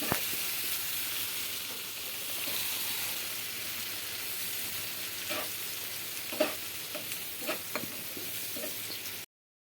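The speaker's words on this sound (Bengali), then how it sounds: "পেঁয়াজটা নেড়ে চেড়ে মাঝারি আছে তেলের মধ্যে ভেজে নিচ্ছি পাঁচ মিনিট সময় নিয়ে" Chopped onions with cumin frying in oil over medium heat give a steady, soft sizzle, broken by a few sharp ticks and scrapes from stirring near the end, with no voices.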